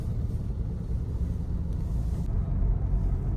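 Steady road traffic out on a route leading away from Rishikesh, a continuous low rumble of passing cars and engines with no break and no voices.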